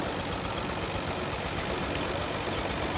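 A tractor engine idles at a Deshler, Nebraska centennial celebration in 1987: a steady, dense low rumble that holds without a break, close and fairly loud, with no clear voices over it.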